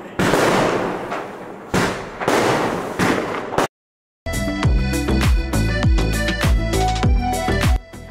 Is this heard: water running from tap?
no